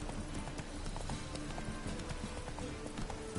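Galloping hooves of a horse in The Witcher 3: Wild Hunt, a fast, continuous drumming of hoofbeats close and loud against a busy background throughout.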